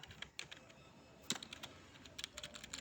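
Keys on a computer keyboard clatter in irregular bursts of quick taps and pauses, fairly soft and close, with no voices over them.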